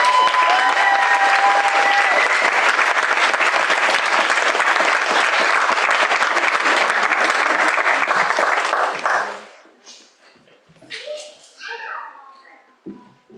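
An audience at an art school's BFA and MFA commencement ceremony applauds the graduates with loud, dense, sustained clapping that fades after about nine seconds, leaving scattered claps and murmurs.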